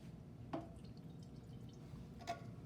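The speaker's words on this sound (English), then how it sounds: "This water I'm tossing." Two faint splashy drips of water being tossed out, a couple of seconds apart, over a low steady background hum.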